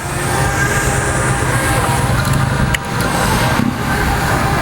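A 2006 Honda CBR1000RR motorcycle with about 22,000 miles idles steadily up close, a continuous dense engine rumble with a couple of brief dips, no talking.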